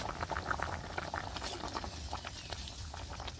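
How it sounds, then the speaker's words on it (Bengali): Water comes to a rolling boil in a cooking pot, ready for desi koi fish curry with green banana, making a steady, dense bubbling and popping that runs close and even throughout, with no talk. "দেখেন বন্ধুরা জলটা কিরকম ফুটতে শুরু হয়েছে।"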